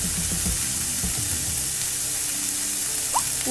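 Vegetables for restaurant-style veg fried rice sauté with salt in a hot pan, giving a steady close sizzle with a few scraping stirs near the start and no talk.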